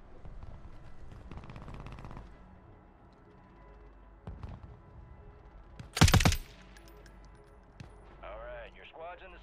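Automatic SMG gunfire in Warzone 3 on the Urzikstan map, with a sharp, loud burst near the middle and scattered shots elsewhere, mixed with game noise and players talking.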